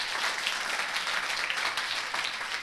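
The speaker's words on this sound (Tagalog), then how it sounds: "Palakpakan nga natin ang Panginoon. At malakas sa palakpak" A church congregation applauds the Lord during a Tagalog-language worship service, a steady, dense wash of clapping that holds at an even, fairly loud level throughout without pauses.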